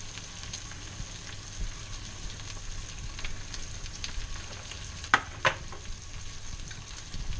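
Egg mixture with cheese sizzling in a frying pan for an omelette, a steady soft frying hiss throughout with a couple of sharp clicks near the end.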